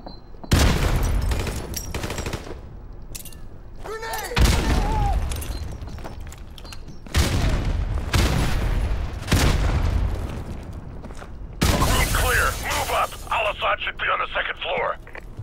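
Heavy gunfire and booming blasts in Call of Duty Modern Warfare Remastered come in loud bursts separated by short lulls, with radio-style chatter running beneath them.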